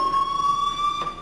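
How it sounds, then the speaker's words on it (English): Fire alarm in Life is Strange, a loud continuous electronic tone ringing steadily and alone throughout. "do you hear that fire alarm?"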